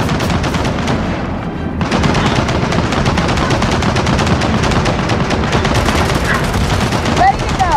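Sustained machine gun fire in Gears of War 4, loud rapid bursts rattling continuously across the whole stretch with booming impacts, game dialogue and shouting voices mixed underneath.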